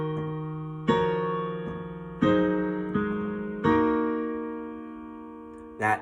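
Piano playing the opening chords of a song, four sustained chords struck slowly one after another and left to ring, close and solo with no voices.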